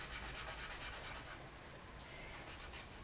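Surface paint being rubbed off a polymer clay piece, a continuous close abrasive scrubbing with a quick regular stroke rhythm and no speech.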